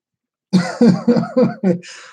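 A close, loud fit of coughing from hot wing fumes: five rapid coughs in a row followed by a short raspy breath, after a moment of silence.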